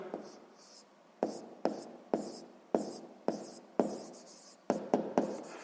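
Pen strokes on paper during a sixth-grade math exercise: quiet, close scratchy bursts of handwriting come in an irregular rhythm, each sharp onset fading quickly, with short pauses between groups of strokes.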